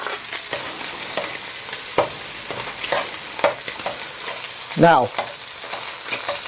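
Beaten egg and leftover rice stir-fried in oil over maximum heat, a steady loud sizzle broken by repeated scraping and tapping of utensils breaking up clumps, with one brief sharp metallic squeal near the end and a single spoken word.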